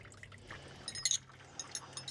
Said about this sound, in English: these are going to keep leaking until the water finds its own level in the hot tub, because the valves don't shut particularly brilliantly